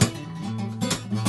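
Fast fingerpicked electric guitar passage, busy plucked notes in quick succession, close and moderately loud with no talking.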